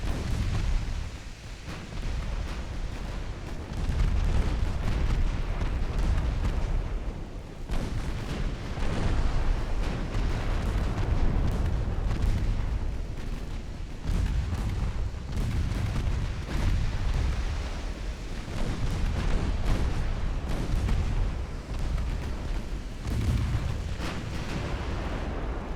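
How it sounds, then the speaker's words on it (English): Naval artillery fire concentrated on a single ship in Ultimate Admiral Dreadnoughts, 1897 French campaign: repeated heavy gun blasts and booming impacts in irregular bursts over a continuous low rumble, with no voices. "That's a lot of fire directed towards that one ship."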